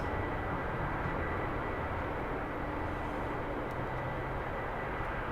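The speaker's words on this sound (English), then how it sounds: "I'm not happy at all with that that afterburner sound." A jet afterburner in a flight simulator game, with a Rafale B on an air-to-ground mission, gives a steady, broad, rushing roar that holds evenly throughout at moderate level, with no talk.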